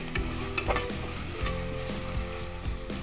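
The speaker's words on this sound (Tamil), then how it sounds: "இஞ்சி பூண்டு பேஸ்ட்டு நான் நல்லா போட்டு வதக்கி எடுத்துட்டேன்." Fresh ginger garlic paste sautés in a pan for a crab masala, a steady close sizzle with repeated scraping stirs and light utensil knocks throughout, and nobody speaking.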